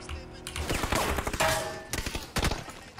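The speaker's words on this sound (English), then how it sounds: "Why do I hear explosions?" Explosions and rapid gunfire crackle in a multiplayer shooter video game, dense booming bursts and rattling shots packed together over a few seconds, fairly loud with a muffled voice briefly under them.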